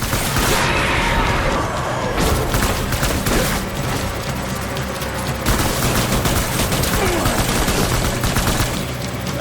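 Sustained bursts of gunfire and machine-gun fire in the Death Stranding video game, loud and continuous throughout, with crashing impacts and faint voices underneath.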